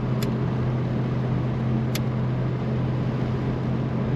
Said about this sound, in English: Hear a little bit of air leaking around the weather stripping on the doors.